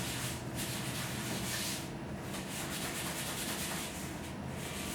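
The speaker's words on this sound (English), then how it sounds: "I'm going to wipe the ink off, and I'm going to use a kind of a dirty cloth to start with." A cloth rubs and wipes ink across a drypoint printing plate in steady, soft swishing strokes, close and quiet, with several brief pauses between passes.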